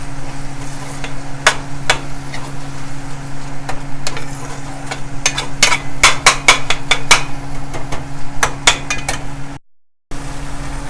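Onions and tomatoes stirred in a cooking pan for chana masala, with a spoon scraping and tapping in irregular clicks over a steady low hum and soft sizzle, close and without talk.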